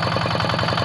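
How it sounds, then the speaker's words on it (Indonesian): A Yanmar G1000 hand tractor engine runs in a rice field, a steady loud mid-pitched chug with a rapid regular pulsing beat throughout. "Mesin tampak dihidupkan."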